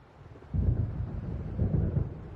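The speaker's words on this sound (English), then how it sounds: "It seems there's a storm coming." Low rolling thunder of an approaching storm in the video game Alan Wake, a deep rumble that swells twice, fairly faint and distant, with no talk.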